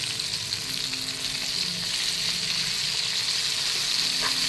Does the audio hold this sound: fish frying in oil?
yes